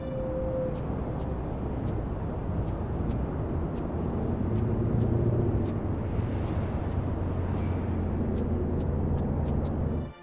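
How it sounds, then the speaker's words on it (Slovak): Background city noise from Tomb Raider III, a steady broadband traffic rumble with cars passing continuously, faint ticking accents over it and no voices. "V pozadí počujete hluk mesta a prechádzajúce auta."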